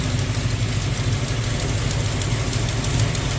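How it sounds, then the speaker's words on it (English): A Ramcharger engine idles steadily close by with a rough, even rumble and a faint rhythmic exhaust tick from the manifold headers. No voices are heard. "Got a little bit of an exhaust tick. That's on that manifold headers."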